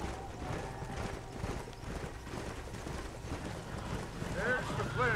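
Horse hooves clip-clop at a steady walking pace in the Western video game Red Dead Redemption, with gusty wind noise over the hoofbeats.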